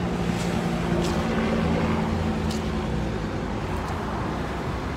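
Helicopters fly around in the video game Grand Theft Auto: San Andreas, heard as a loud, steady engine and rotor drone that continues unbroken for the whole stretch, with no talk.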